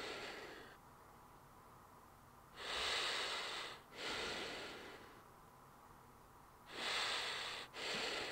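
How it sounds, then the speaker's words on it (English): Carl in GTA San Andreas Definitive Edition breathing heavily, with long, loud, noisy breaths in and out in two bursts separated by quiet, close to the ear and with no talk. "Carl, you breathing heavy, my boy"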